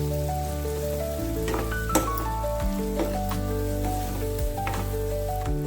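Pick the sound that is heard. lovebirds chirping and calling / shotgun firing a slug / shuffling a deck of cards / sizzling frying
sizzling frying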